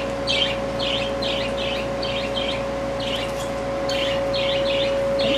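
Baby female Eclectus parrots from the Solomon Islands call in repeated short squawky bursts, clustered chirps recurring through the clip over a steady background hum.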